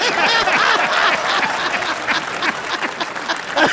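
Dense, steady applause from a lecture audience at a Hindi-language talk on the Kashmir conflict fills the whole clip, loud and close, with a few brief shouts mixed in.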